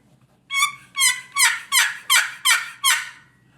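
A high-pitched turkey call sounds a hen yelp: seven loud, evenly spaced raspy yelps in a steady cadence, heard alone and close.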